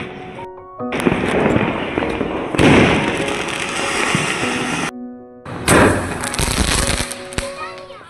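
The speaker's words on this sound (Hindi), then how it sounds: "हमने पटाखे फोड़ लिए" Diwali firecrackers burst in loud crackling volleys, several long runs separated by brief pauses, with voices in between.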